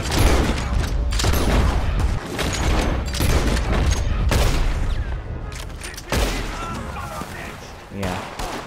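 Rapid volleys of gunfire from a Red Dead Redemption 2 shootout on PC, loud and dense with booming shots and clatter, running almost continuously with brief dips, while a voice talks over the action.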